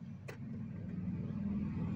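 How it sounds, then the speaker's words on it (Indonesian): A car engine idles while warming up on an early morning at around 1200 rpm, a faint, steady low hum with a brief light click near the start and no voices. "Kalau masih pagi atau masih awal usahakan 10 menitan kita panasin dulu ya mesin"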